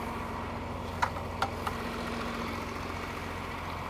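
A farm tractor's engine idles at a distance during harvest, a steady low hum with a few faint clicks and knocks in the first half.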